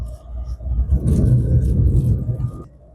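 Inside a Citroen AX with its 60 horsepower engine, a loud low rumble and road roar fill the cabin over a rough, uneven road surface, rising and staying heavy before easing near the end.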